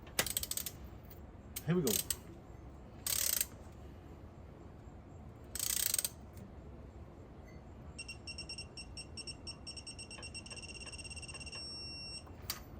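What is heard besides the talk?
ratchet torque wrench tightening cylinder head bolts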